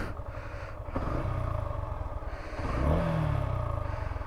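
A Yamaha FZ-S V3 motorcycle engine idles with a steady throb, then its revs climb and fall back, heard close with no talking.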